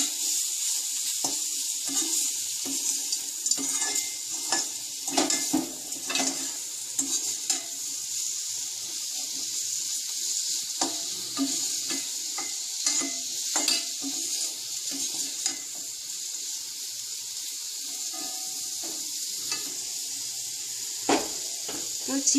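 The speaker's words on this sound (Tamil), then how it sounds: "இதை நல்லா கிளறி சின்ன அடுப்பில் வச்சிடலாம். ஸ்லோ ஃபயரில் வறுபடணும், மொறு மொறுன்னு வறுபடணும்" Turmeric-spiced ingredients stirred and dry-roasting crisply in a pan over a low flame, with a steady soft sizzle and repeated scraping spoon strokes throughout, close and moderately loud.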